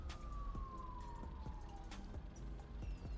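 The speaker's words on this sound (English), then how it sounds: "Okay, I hear sirens this way." Police car sirens in the video game BeamNG, a faint distant wail gliding slowly downward over a low engine hum, with scattered clicks and taps; no talking.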